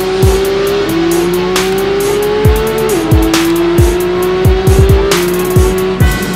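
A Porsche 911 GT3 with a new naturally aspirated 4-litre engine revs hard under acceleration, a loud, steady, rising howl that dips briefly at a gear change and climbs again, with short tyre squeals throughout.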